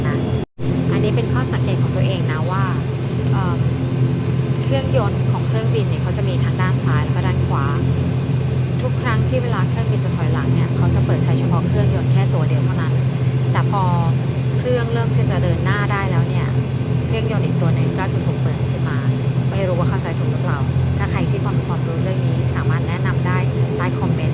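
An airplane's engines run on the ground near Siem Reap, Cambodia, making a loud, continuous roar with a steady low drone. Voices are faintly audible underneath throughout.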